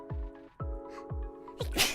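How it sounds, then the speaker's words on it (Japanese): A single sharp sneeze bursts out at the end of a short run of soft, rhythmic breathy sounds, close to the microphone and fairly loud. "くしゃみ出そう。"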